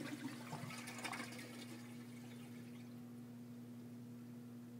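Smoky water draining from a freezer filled with melted dry ice after the drain is pulled, a gurgling, splashing flow strongest at first and then settling into a steady low trickle, with no talking.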